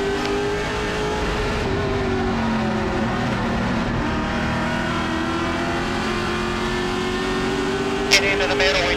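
Race cars at Tri-County Speedway roar loudly and continuously, engines droning and shifting pitch as they race in a pack, with a sharp brief accent near the end.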